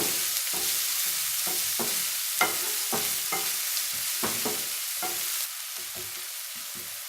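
Onions sautéing in a pan for paneer masala, a steady hiss of frying with a rhythmic series of scraping spoon strokes throughout, close and fairly loud, without talk.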